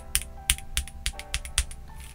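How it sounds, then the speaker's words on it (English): Typing on a stock KBDcraft Adam modular mechanical keyboard without foam, a quick run of crisp, close clacks in an uneven rhythm, fairly quiet and with no talking. "I love how this keyboard sounds stock."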